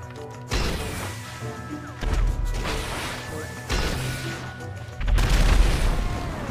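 Grenade launcher blasts in the video game GTA V, four heavy booming crashes about every one and a half seconds, loud and close, each with a rumbling tail amid game effects.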